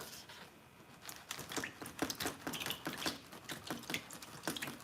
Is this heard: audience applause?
no